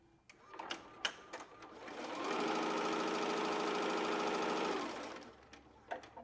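An embroidery machine runs a placement stitch for the ears of a stuffed bunny, a steady rapid mechanical whirring that lasts about three seconds, with light clicks and handling noises before and after.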